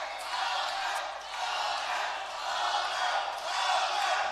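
Spectators at a boxing match in the final eighth round chant a fighter's name, a dense, loud crowd roar that swells and dips in repeated waves.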